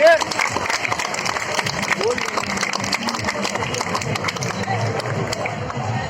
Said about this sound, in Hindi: श्री राजेश रंजन उर्फ पप्पू यादव जी के स्वागत में 1 मिनट जोरदार ताली से इनका स्वागत करें।